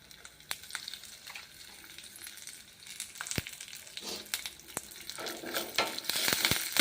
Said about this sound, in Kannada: ಕರಿಬೇವು ಹಾಕಿ ಒಗ್ಗರಣೆ ರೆಡಿ